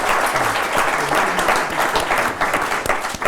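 An audience claps to welcome a speaker at an institute lecture, a loud, dense round of applause that carries on steadily throughout with a faint voice briefly underneath.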